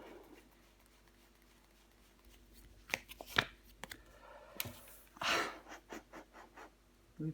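Tarot cards are shuffled and laid down during a reading: soft, quiet riffling and brushing with several light slaps of cards landing on a surface, set against near silence.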